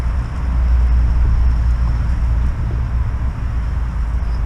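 A fast RC truck with a Hobbywing 1060 ESC runs at top speed locked in first gear. Its loud, steady motor drone and rumble carry on without a break and dip slightly partway through, with no voices.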